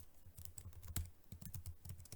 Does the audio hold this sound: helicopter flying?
no